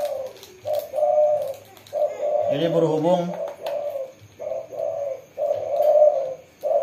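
Caged zebra doves and spotted doves coo repeatedly nearby, a steady run of low, rolling calls that carries on beneath someone talking.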